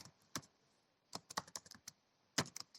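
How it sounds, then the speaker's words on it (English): Computer keyboard keys clicking while running Python pandas code: a single tap, then a quick run of presses, then another short cluster, crisp and close, in an otherwise quiet room. "click shift enter"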